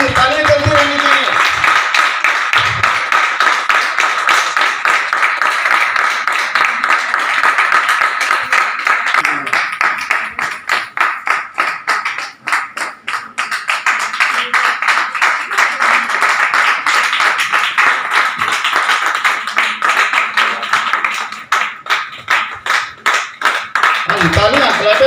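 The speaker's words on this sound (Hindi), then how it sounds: "दिल खोल के तालियां दीजिए।" At a training camp event, a group of people claps for a long stretch, dense and energetic with rhythmic patches and slight dips in loudness, while a voice talks briefly at the start and end.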